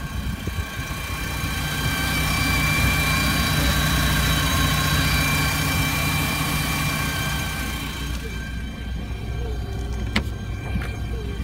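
A 2008 StarCraft 1800 Limited boat engine idles steadily during a run-up check, a continuous droning hum that stays even for about eight seconds before dropping away to a quieter background with a faint click.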